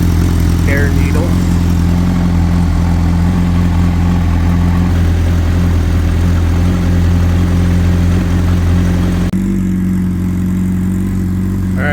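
Honda CBR600RR engine idling up close with a loud, steady low drone that wavers in pitch, then drops suddenly near the end.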